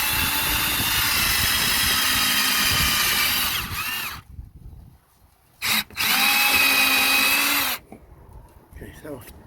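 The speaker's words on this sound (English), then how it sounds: "We'll start by drilling this hole deeper by holding the jig" A power drill bores a hole deeper through a jig on a boat's swim platform railing, a loud whining run, a pause, a short burst, then another sustained run before stopping.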